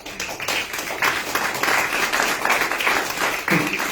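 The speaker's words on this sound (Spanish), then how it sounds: "Vamos a darle un aplauso al Señor," A church congregation applauds steadily for several seconds, dense clapping that swells and holds at a moderate level.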